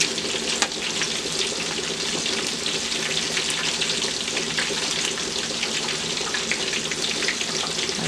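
Turkey tails deep fry in hot oil with a constant broad hiss and scattered crackling pops, close up and even in level, no one talking.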